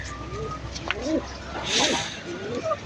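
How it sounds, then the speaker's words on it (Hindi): Soft, low coos from a black pigeon repeat a few times at an easy pace, nearby, over a faint steady outdoor background hiss. "इतना प्यारा कबूतर है, ब्लैक कलर का।"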